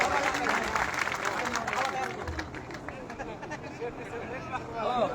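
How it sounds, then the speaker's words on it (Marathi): Loud applause from a large crowd welcoming an honoree at a rally at Narayangad in Beed district, a dense wash of clapping mixed with crowd babble and voices, gradually easing slightly before swelling again. "जोरदार टाळ्या वाजून स्वागत."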